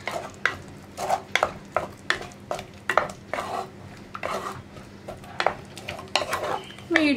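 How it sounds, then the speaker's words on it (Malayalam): Vanpayar and tomato curry stirred in a pan over a medium flame, with a spoon scraping and clinking against the metal in quick uneven strokes, loud and close, under a faint sizzle. "മീഡിയം ഫ്ലെയിമിൽ വെച്ചിട്ട് ഒന്ന് ഇളക്കി കൊടുത്തുകൊണ്ടിരിക്കുക"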